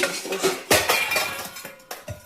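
A dish stand topples in a home kitchen, sending steel utensils and pots clattering in a sharp crash followed by several scattered metallic clinks and rattles over a couple of seconds.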